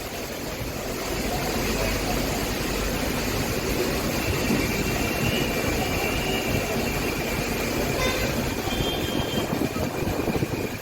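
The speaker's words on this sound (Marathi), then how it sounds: "हे बघा मेट्रो पण आली आहे" A metro train arrives on a rainy day, a continuous loud rumble and whoosh from start to end with a faint high whine riding over the steady noise, heard from a nearby passage.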